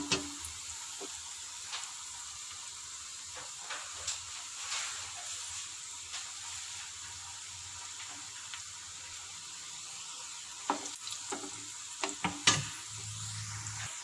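Fish cutlets fry in a pan with a soft, continuous hiss of oil and occasional stirring clicks. The sizzle stays low and steady, and a few louder taps near the end suggest the cutlets being turned.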